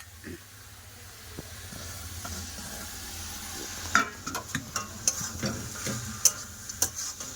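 A spoon stirring chopped coriander leaves through a fish-head curry in a pan, with soft scraping and clinks over a faint simmering sizzle that grows into a series of sharper knocks toward the end.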